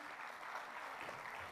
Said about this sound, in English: Parents, please keep the applause going.